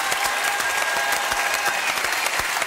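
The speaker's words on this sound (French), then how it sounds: "Monsieur Oui, applaudissements" A television studio audience breaks into loud, dense applause, a continuous wash of many hands clapping at full strength for the whole stretch, with no talking over it.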